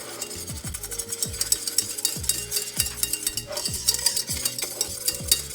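A whisk stirs an improvised sauce in a pan over a sizzling background, with repeated rhythmic scraping strokes running steadily throughout.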